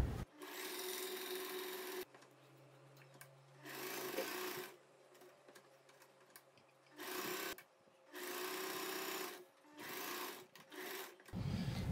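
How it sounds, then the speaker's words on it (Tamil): Domestic sewing machine running in several steady bursts of a few seconds each while stitching a churidar neckline, close and quiet, with brief pauses and faint handling noise between runs. "இப்போ நம்ம கால் இன்ச் டிஸ்டன்ஸில் அப்படியே ஃபுல்லாக ஸ்டிச் பண்ணிக்கலாம்."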